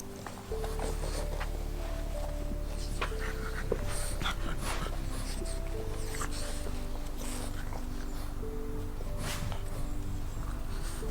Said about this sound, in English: Here's Max, our weenie dog